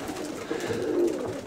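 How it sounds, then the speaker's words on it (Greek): A pigeon coos close by in a short, soft rolling burst that swells slightly toward the end, alone without voices. "Αυτό το περιστέρι μου το έδωσε ο φίλος μου Μιχάλης."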